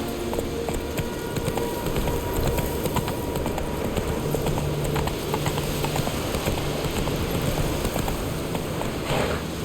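Roach, the horse in The Witcher 3, gallops with a rapid, steady clip-clop of hooves, loud and continuous, over faint ambient wind.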